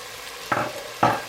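Ground spices and salt hit hot oil in a pan for pav bhaji, giving two quick bursts of sizzling and stirring over a low steady fry, close and fairly soft.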